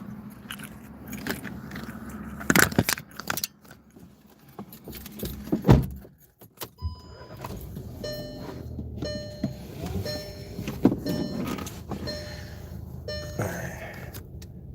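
Someone climbs into a car with keys jangling, rustling and a couple of heavy thumps from a door and seat, followed by a series of chiming electronic tones from the car.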